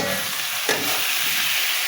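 Fried potatoes being stirred into a tomato masala in a pan give a steady, close sizzle with a scrape of the spoon partway through, continuous and without speech.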